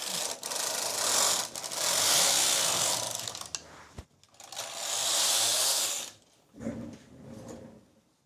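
A knitting machine carriage sweeps back and forth knitting stripes for a sweater, making loud whooshing, clattering passes of a few seconds each, separated by brief pauses and small mechanical clicks, close up with no talk.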